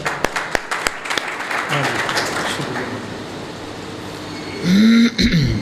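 Audience at a religious debate applauds in a short ragged round, a few sharp separate claps first, then a denser patter that fades, followed by a throat clearing and microphone handling.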